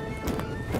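Cavalry horses in Napoleon Total War, with quick, close clip-clop hoofbeats and a faint whinny over a busy battlefield background, brief and moderately loud.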